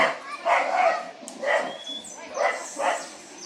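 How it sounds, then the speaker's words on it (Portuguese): A dog barks in short bursts, about five or six yips and barks spaced irregularly, fairly close, with some whimpering tones between. "Tem que prestar atenção, os cachorros latindo."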